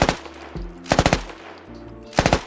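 Bursts of rapid rifle fire from the Squad video game with Turkish Land Forces, three quick volleys of sharp cracks separated by short pauses, loud and close with no talk.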